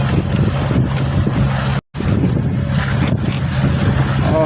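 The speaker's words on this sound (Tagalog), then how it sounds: "may hangin at saka may alon" Strong, steady wind roars across the microphone with a constant low rumble and churning waves at sea from a small fishing boat, broken by a brief dropout midway.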